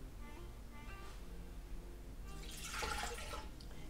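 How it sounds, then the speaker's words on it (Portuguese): Water pours into the mixing bowl of a Bimby/Thermomix kitchen machine while making bread dough with yeast, flour and salt, a quiet hiss that swells into a brighter splashing stream in the last second, near and alone. "Começamos por colocar então a água"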